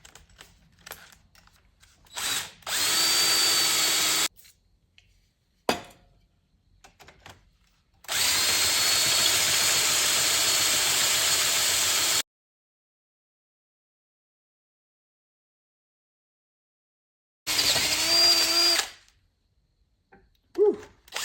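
A power drill boring holes through a Ford Pinto rear brake drum, with three separate bursts of steady whining, grinding drilling, the longest about four seconds, separated by silences and faint handling noises.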